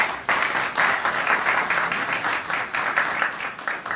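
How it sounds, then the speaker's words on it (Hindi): Audience applause at a poetry and conversation gathering in Barcelona, a dense, steady wash of many hands clapping that carries on for several seconds with no voices on top. "आपकी भरपूर तालियों में"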